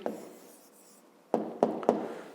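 Pen writing an answer on paper during a fifth-grade math exercise, a soft scratch followed by three quick, distinct strokes, close and quiet.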